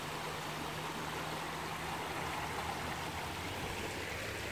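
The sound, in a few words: water cascading down a river at Tew's Falls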